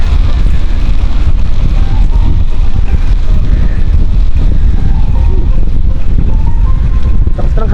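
Strong wind at Tokyo International Airport Haneda buffets the microphone throughout, a loud, steady low rumble with gusty roar and no pauses.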